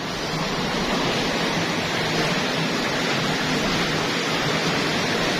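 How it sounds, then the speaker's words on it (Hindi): Loud, steady roar of rushing water at an old water mill, a dense unbroken wash of sound filling the scene with no voices over it. "ये पानी का शोर जो आपको नज़र आ रहा है ना"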